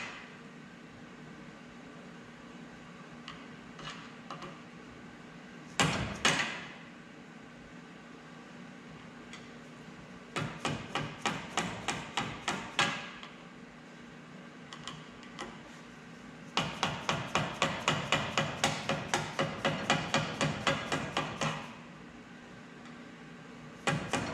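Bursts of rapid metallic hammer blows on a punch ring out in quick series, separated by quiet pauses with a faint background hum, during a Hodaka Combat Wombat motorcycle restoration.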